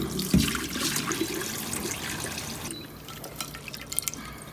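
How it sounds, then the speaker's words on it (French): Water runs and splashes while salted meat is rinsed in a container, a steady close trickle with drips and a sharp splash near the start, continuing alone without voices while salt is washed off the sides and the meat. "on va le rincer un tout petit peu pour justement enlever tout ce qui est encore du sel sur les parois et sur la viande"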